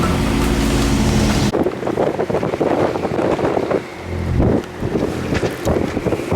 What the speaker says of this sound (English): we're just going to keep running along on this starboard engine